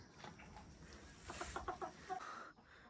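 Chickens cluck softly nearby, a few short throaty calls over a faint, hissy background.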